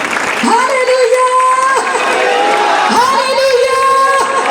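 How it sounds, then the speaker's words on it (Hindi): A church congregation claps loudly and cheers, with voices shouting in two drawn-out bursts over continuous applause, filling a large room close by. "जोरदार ताली बजाते हुए एक नारा भी मारेंगे"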